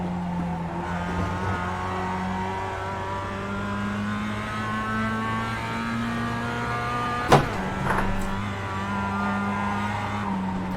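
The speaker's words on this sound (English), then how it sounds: "I can hear the tyres squealing," Tyres squeal on a Mazda MX-5 in the iRacing sim at Oran Park South Circuit, with thin high squeals riding over a steady engine drone and a sharp brief knock partway through.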